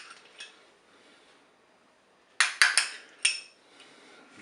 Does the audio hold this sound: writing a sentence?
no